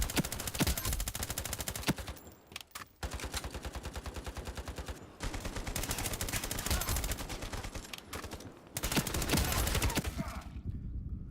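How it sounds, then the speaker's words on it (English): Vector SMG firing in the video game Ironsight, loud rapid automatic bursts at a very high rate, several sustained strings broken by short pauses, with no talk. "it has the highest rate of fire of all the SMGs"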